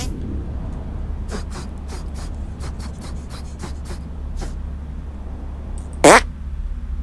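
A cartoonish fart sound effect from the South Park: The Stick of Truth video game bursts out once, loud and short, near the end, over quiet ambient music and a series of soft clicking taps.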